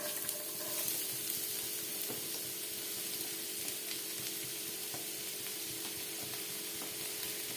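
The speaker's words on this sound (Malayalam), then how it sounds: "വെളിച്ചെണ്ണ ചൂടായി വരുമ്പോൾ ഇതിലേക്ക് സബോള ഇട്ടെടുക്കണം" Onion fries in hot coconut oil in a pan, producing a continuous, even sizzle heard close and alone throughout.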